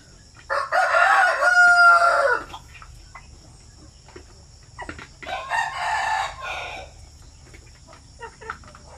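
A native rooster crows twice, loud and close, each call a drawn-out cock-a-doodle-doo lasting about two seconds, with a short pause between them and faint insect chirping underneath.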